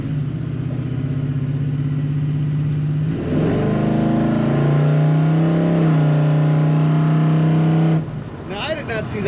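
A 1972 Chevrolet C10 pickup truck accelerating hard, its engine drone loud and steady, then rising in pitch as it pulls, with a brief shift and continued strong revving toward the end.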